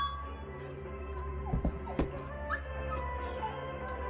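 A dog whimpers in the horror video game Silent Hill 2, giving a couple of short, thin whines over a droning low ambient hum, with no talking.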